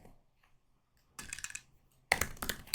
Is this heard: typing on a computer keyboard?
yes